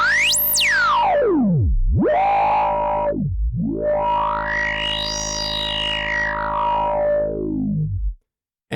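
Screechy filter patch on a Novation Peak synthesizer with effects, a loud distorted tone sweeping up and down in dramatic swoops, ending in a rising, falling arc of bright harmonics before cutting out.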